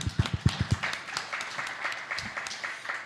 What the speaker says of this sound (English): Round of applause for David Bigelow IV.